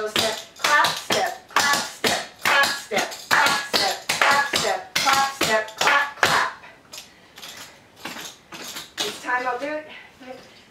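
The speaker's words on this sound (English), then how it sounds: "So we're going to clap, but clap our hands on each upbeat." Intermediate clogging is practised at home: a steady run of loud, crisp tap steps with hand claps on the upbeats, close and rhythmic. Sharp percussive hits repeat over about ten seconds, thinning slightly toward the end.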